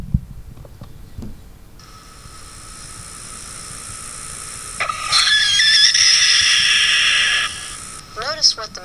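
A rooster's alarm call at a flying predator, played back as a recording over loudspeakers at a talk, comes in after a quiet start as one very loud, harsh, sustained cry lasting about six seconds and sounding distorted.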